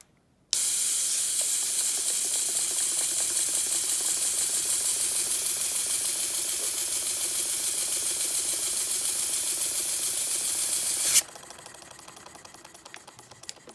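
A Peerless toy steam engine runs on compressed air after repair, giving a close, loud hiss over a fast, even mechanical ticking that holds steady for about ten seconds, then stops abruptly, leaving faint clicking.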